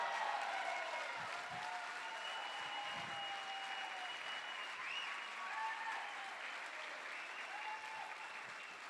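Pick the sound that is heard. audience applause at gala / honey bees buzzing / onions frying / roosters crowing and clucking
audience applause at gala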